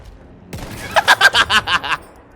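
A burst of rapid gunfire in the World War I shooter Battlefield 1, with about seven loud evenly spaced shots after a sharp opening report, close and prominent with no talking over it.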